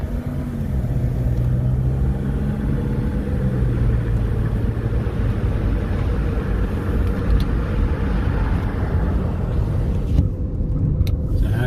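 2011 Toyota RAV4 cruising on Boulder Highway near Las Vegas, a steady loud low engine and road rumble heard from inside the cabin, with brief clicks near the end.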